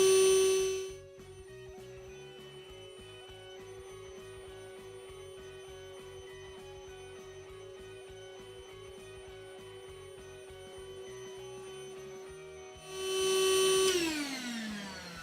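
A Ryobi ONE+ 18V inflator fills a bounce house through a needle adapter, a steady close motor whine with a rhythmic pulsing drone underneath, starting and stopping with louder surges at each end.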